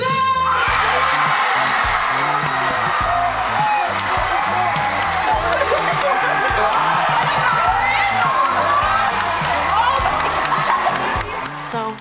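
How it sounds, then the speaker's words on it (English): A dense crowd at an a cappella competition cheers, whoops and yells for the champion college group, a loud, sustained roar throughout with shouted voices over it. "Round of applause for your champion this evening, the Bells!"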